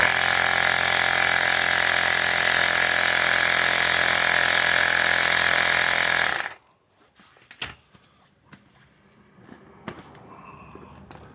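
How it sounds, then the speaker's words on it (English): A small hand pump blasts air over bolt threads on an old truck, a steady loud hiss lasting about six seconds before cutting off, followed by faint handling clicks and knocks. "I have a little hand pump. I'm just going to blow the threads clean."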